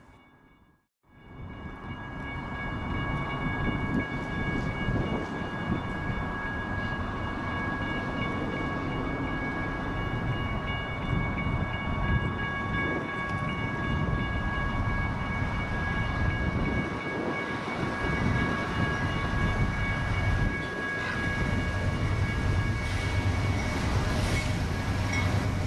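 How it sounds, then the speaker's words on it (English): A BNSF priority intermodal freight train, Winslow to Phoenix, led by Dash 9 and SD70 locomotives, rumbles steadily past Flagstaff station in Arizona, with loud continuous wheel and wagon noise and a faint high squeal running throughout. "BNSF ZWIN PHX, Winslow, Arizona to Phoenix, Arizona Priority Intermodal, came around the corner"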